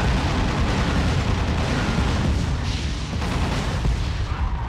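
Dense, continuous roar of weapon fire and explosions in the vehicular combat game Twisted Metal Head On, loud and unbroken throughout a boss fight with no pauses or talk.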